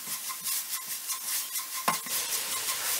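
Corn meal roasting in a pan for mustard leaves curry, stirred in a steady rhythmic scrape with a soft sizzle underneath and one sharper knock of the utensil against the pan partway through.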